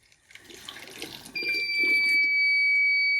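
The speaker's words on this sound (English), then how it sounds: "The buzzer was activated." A water leak detector's buzzer sounds once water poured into a pipeline reaches its sensor, a piercing continuous high tone that starts abruptly after trickling water and holds loud to the end.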